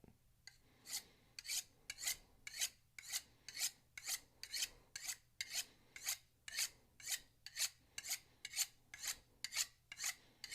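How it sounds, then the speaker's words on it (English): Knife honed on a diamond sharpening steel, a close, dry rasping scrape repeated in steady strokes roughly twice a second, about twenty passes with no talk. "It can take some time with a diamond hone sharpening steel to get it back to sharp."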